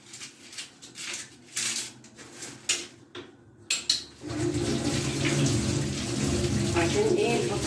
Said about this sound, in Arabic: تعالوا ما نغسل البصلايه دي، ثواني بس هغسلها واجيلكم